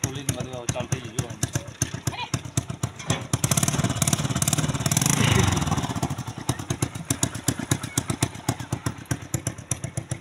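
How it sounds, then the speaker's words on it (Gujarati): A repaired motorcycle engine idles with a rapid, even thumping beat, briefly revving into a louder roar midway before settling back to its steady chug, close by. "બાઇક ચાલુ થઈ ગઈ છે"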